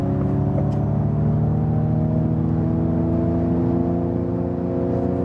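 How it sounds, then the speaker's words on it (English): A Ford Mustang Mach-E electric car accelerating in untamed mode, its sound generator producing a steady, layered synthetic hum and whir that holds level and close throughout, with no talking. "you also heard this electric sound, you know, this sound generator then"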